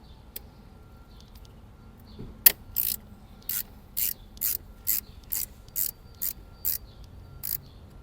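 A ratchet loosens the battery terminal nut on a Scion iQ, giving about a dozen crisp, close clicking bursts in an even back-and-forth rhythm after a single sharper click.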